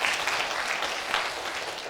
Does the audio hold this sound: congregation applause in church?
yes